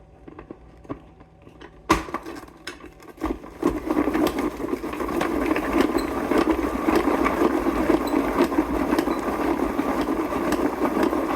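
A food processor grinds cilantro for fermented salsa, a steady motor whir starting after a few brief clicks and clunks, then running continuously and fairly loud to the end.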